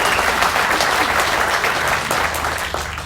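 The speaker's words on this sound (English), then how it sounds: "Quite a round of applause you got" Audience applause for a United States congressman being introduced among speakers at a Mint sesquicentennial event, a steady dense clapping from a large crowd that carries loudly through the whole clip and tapers only slightly near the end.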